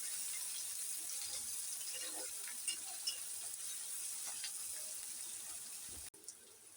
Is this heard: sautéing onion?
yes